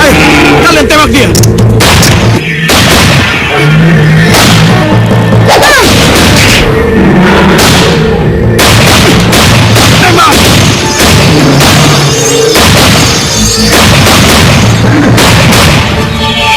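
Film battle against a giant lizard, with loud repeated gunfire bursts and booming explosions filling the scene, shouted voices and dramatic music underneath throughout.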